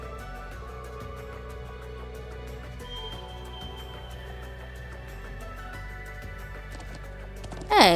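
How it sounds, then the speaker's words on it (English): Hooves clip-clop steadily as a horse is ridden in the video game Trails of Cold Steel II, a faint rhythmic patter under game music, ending with a brief bright chime. "I miss riding a horse across the Highlands."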